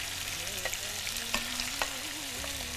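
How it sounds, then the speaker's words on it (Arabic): Meat sizzles and fries in onion oil with whole spices, a steady close hiss with occasional stirring scrapes as the pieces are turned, no voices. "نحط اللحمه ونقلبها"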